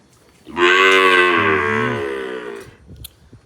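A single long, loud moo from an ailing cow at a cow shelter, lasting about two seconds with a falling, drawn-out tone, then quiet.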